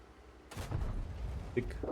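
A tank cannon fires in the video game World of Tanks, one sudden loud boom with a rumbling tail and some trailing mechanical clatter, up close.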